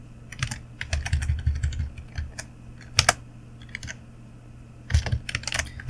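Quick keystrokes on a computer keyboard while code for a selection sort is typed, in rapid clattering bursts with short pauses and a few sharper key hits, close and clear, with no talking.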